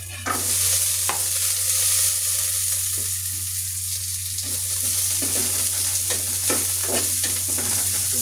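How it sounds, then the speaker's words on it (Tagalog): Onion and ginger sizzle steadily in a hot pan while being stirred, with scraping strokes of a utensil breaking through the constant loud frying hiss. "Halo-halo natin para sa ganun maluto yung luya."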